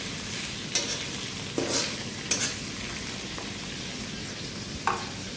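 Chopped tomatoes fry in a pan for butter chicken with a soft continuous sizzle, broken by several sharp scrapes and clinks of a spoon stirring, no talk.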